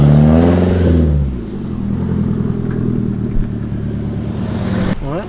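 Modified Nissan 240SX with a loud aftermarket exhaust, a close, throaty engine rev that rises and falls sharply, then settles into a steady droning rumble as it pulls past, with a brief rising whine at the end.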